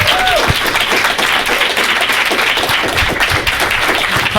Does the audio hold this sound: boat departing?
no